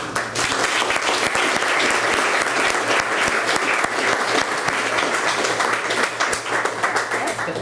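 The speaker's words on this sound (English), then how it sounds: "Give a warm round of applause to Amanda Claire Buckley." Warm applause from a comedy-club style audience greeting a storyteller taking the stage in Washington, D.C., a dense, steady wash of many hands clapping at full volume for the whole stretch.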